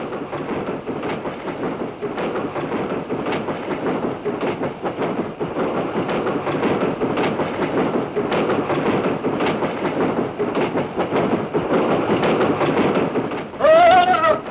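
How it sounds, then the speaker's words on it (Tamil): A train carriage rattles and clatters continuously in an uneven rhythm, loud and close, jolting along the track. "ரயில் பெட்டி ஒரே ஜோல்டி, அதாவது ஆட்டம்"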